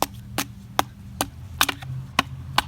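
A TOPS Dawn Warrior knife blade scraping and chopping bark off wood, giving sharp, dry strikes spaced irregularly about every half second, close up and without talk.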